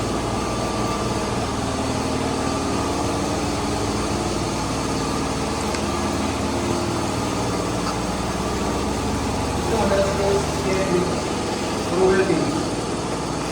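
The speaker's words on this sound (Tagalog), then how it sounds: "generator yan sa barko" A ship's generator engine runs with a steady low hum and drone, continuous and close, with voices talking over it near the end.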